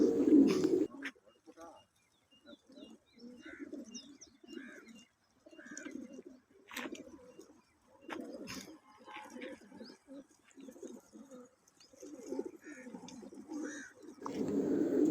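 Homing pigeons at a racing loft on race-release day, cooing in repeated soft low rolling phrases through the clip, with occasional brief chirps from other birds; no talking.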